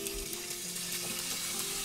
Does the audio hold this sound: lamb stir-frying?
yes